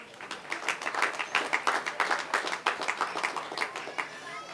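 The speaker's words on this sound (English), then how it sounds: "Big round of applause." A large crowd claps in steady, sustained applause at an outdoor Indian festival inauguration ceremony, many hands close and evenly dense throughout, moderately loud.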